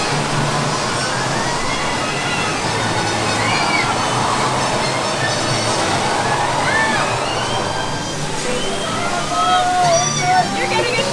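Water rushes and splashes over riders on Popeye and Bluto's Bilge-Rat Barges raft ride at Universal's Islands of Adventure, a steady broad wash of spray heard close by, with people talking and shouting over it.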